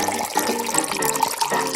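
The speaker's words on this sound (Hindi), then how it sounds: "पानी डालो" Water poured into a cotton candy drink, a continuous splashing gush with a bubbly, burbling texture, close and fairly loud for under two seconds.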